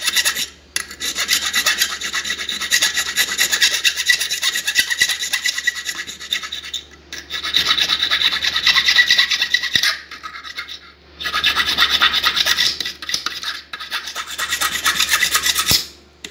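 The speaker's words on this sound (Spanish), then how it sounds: "Vamos a limar la llave. Le voy a borrar los dientes." Metal file rasping across a padlock key blank to grind its teeth away, in long close scraping strokes grouped into three sustained bursts with short pauses between them.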